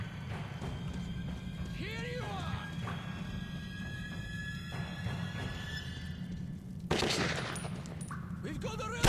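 Gunfire rattles through a firefight in the Metro 2033 video game, steady bursts layered under a low rumbling background and scattered shouting voices, with a louder flurry near the end.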